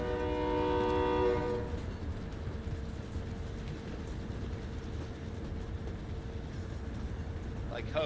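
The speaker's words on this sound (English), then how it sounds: "Like hobos riding a train." A train in the Call of Duty video game sounds its horn at the start, a bright harmonic blare fading after about a second and a half, leaving a continuous low rumble of rail travel.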